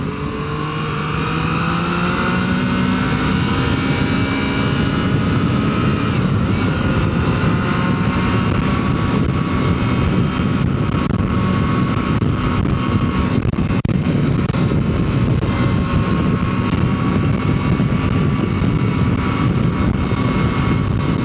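New motorcycle engine held at speed in third gear, a loud steady drone with rising harmonic whine and heavy wind rush, constant and close throughout.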